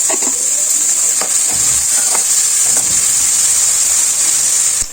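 Sliced onions and green chillies with salt frying in a pan, a loud steady sizzling hiss with scraping stirring strokes, close by and without voices.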